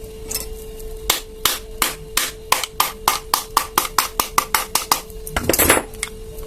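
Sharp metallic hammer blows drive a bearing into the gear head of a lawn trimmer, about twenty close, loud strikes in a steady rhythm that speeds up and ends in a brief scraping clatter.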